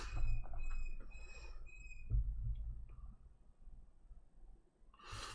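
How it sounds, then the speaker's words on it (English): A pet bird chirps in a room with repeated short, high, thin calls in the first two seconds, then a brief bright burst at the end, over low rumbling background noise. "Sorry about the bird."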